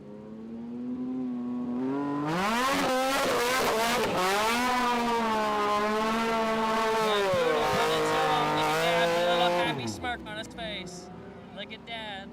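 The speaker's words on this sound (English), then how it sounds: "you might see a couple burnouts from that A&A Power Sports buggy" Side-by-side racing buggy from A&A Power Sports doing burnouts, its engine revving hard with a loud, wavering high-pitched wail for several seconds before cutting off abruptly, followed by brief rattling.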